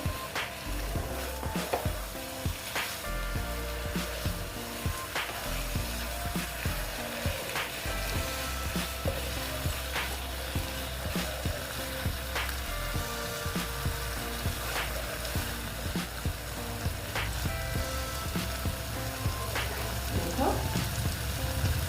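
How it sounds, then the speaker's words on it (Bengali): Ash gourd pieces fry in a pan with a steady, dense sizzle, broken by frequent scraping knocks as they are stirred and tossed, close and fairly loud throughout. "এই যে দেখো চাল কুমড়োগুলো দিয়ে দিচ্ছি দিয়ে ওটার সঙ্গে একটু নেড়ে চেড়ে নিচ্ছি"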